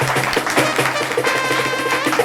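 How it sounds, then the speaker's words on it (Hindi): A stand-up comedy audience claps for itself in a dense, steady patter of many hands, with scattered voices mixed into the applause. "एक बार ताली वाली बजाओ अपने लिए।"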